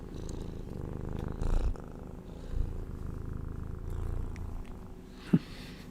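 A tiny full-grown female cat purring close up, a steady low rumble running throughout with a couple of brief louder bumps and a sharp click near the end.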